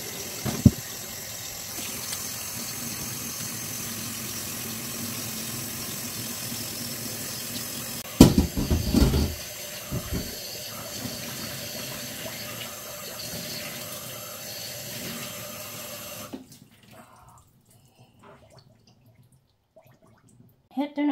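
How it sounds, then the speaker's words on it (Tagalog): Hot tap water runs steadily into a kitchen sink to wash a turkey leg, a constant close hiss with a few clunks midway, then the flow cuts off and the sink goes quiet. "Then let's wash with hot water."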